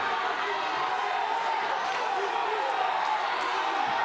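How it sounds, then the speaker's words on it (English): The crowd at a Milton versus Fort Atkinson high school wrestling match in 2019 cheers loudly, a dense, steady roar of voices with scattered claps and stomps that holds throughout, with commentary over it. "Crowd reaching a fever pitch,"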